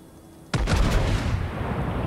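A single sudden, heavy blast of naval artillery from a warship in World of Warships, the sharp onset trailing into a long rumbling decay.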